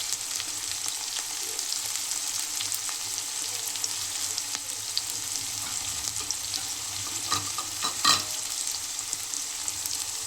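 Chopped green chillies frying in a pan, a continuous bright crackling sizzle held at an even level throughout, with a few light spoon or pan knocks near the end.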